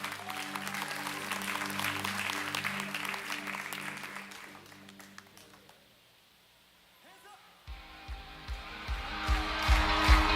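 Church congregation at a summer short-term mission report service breaks into loud clapping and cheering that swells, fades to near silence midway, then music builds again.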